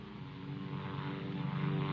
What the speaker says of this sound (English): maybe they saw a plane back there